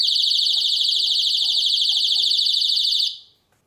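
A Mosaic MH306V alarm blares a loud, piercing continuous electronic tone with a fast warbling pulse, holding steady for about three seconds before cutting off and fading to silence.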